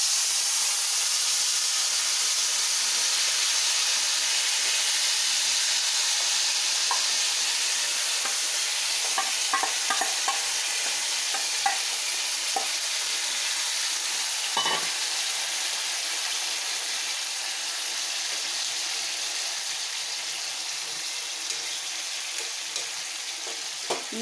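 Cauliflower frying in oil on a hot tawa pan, a loud, continuous close sizzle and hiss with occasional faint pops and scrapes, no voices.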